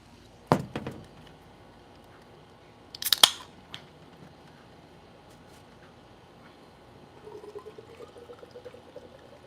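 A drink is poured into a glass near the end, a soft rising trickle, preceded by a couple of sharp clicks and handling sounds in an otherwise quiet room.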